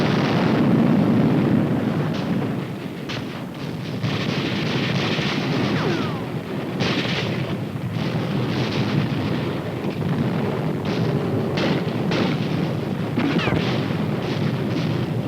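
Grenade explosions in jungle combat, a long run of rumbling, overlapping blasts and sharp cracks at irregular intervals, some near and loud, others more distant, with no speech.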